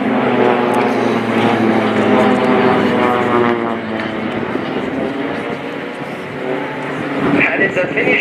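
Four Pilatus PC-7 propeller aircraft of the Swiss Air Force team in simulated air combat over Fairford at RIAT, a loud steady propeller engine drone with shifting pitch, mixed with voices.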